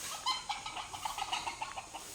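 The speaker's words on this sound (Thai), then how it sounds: "เป็นนกยูงที่วัดป่าตึ้งกลางหง ตำบลบ้านเป้าอำเภอแม่แตงจังหวัดเชียงใหม่" A white peacock at a forest temple in Mae Taeng, Chiang Mai, gives a quiet series of short clucking calls in an uneven rhythm, fairly faint and alone.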